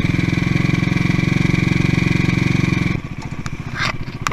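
A CCM Bobber motorcycle engine runs with a loud, rapid, even thumping idle that drops to a lighter, uneven rumble partway through, with a few brief clicks and rattles near the end.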